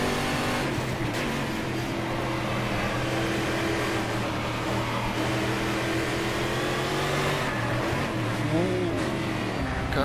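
A Brazilian V8 stock car engine in Game Stock Car Extreme at Interlagos roars steadily and loud throughout, its pitch rising and falling as the throttle is worked under continuous racing noise.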